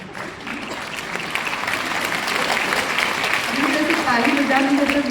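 A live audience breaks into steady applause at a formal Hindi-language address, the clapping swelling from moderate to fuller and louder over about five seconds, with no talking over it.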